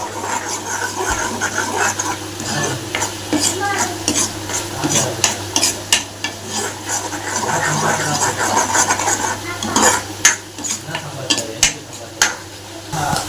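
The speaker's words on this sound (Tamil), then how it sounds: "மிளகாத்தூள் ஒரு ஸ்பூன் போட்டுக்கோங்க நல்லா வதக்கி விட்டுக்கோங்க" Chili powder being sautéed in a pan while making sundal, with steady stirring scrapes and a soft sizzle running throughout, close and moderately loud, with a low steady hum underneath.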